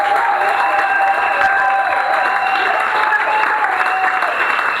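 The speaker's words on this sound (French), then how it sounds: "Est-ce que tu peux acclamer le Seigneur?" A congregation at an evangelistic and deliverance campaign meeting applauds the Lord, dense sustained clapping and cheering filling the room, with voices calling out over it.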